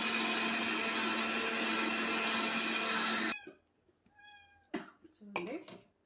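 A kitchen mixie grinder whirs loudly and steadily while blending moong dal batter with green chillies and ginger, then cuts off abruptly, followed by quieter talking.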